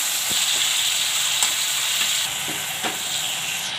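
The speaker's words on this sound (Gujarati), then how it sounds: "તો ટમેટાને આપણે સળવા દઈશું." Tomatoes frying in a pan for a Gujarati Fafdi Gathiya shaak give a steady, close hiss and sizzle, with a few faint clicks of stirring.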